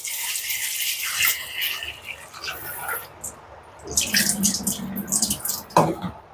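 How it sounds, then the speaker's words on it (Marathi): Water splashes and swirls as grain is rinsed, with running water, drips and sloshing in bursts, close by and without speech. "याला असं पाण्याने धुते"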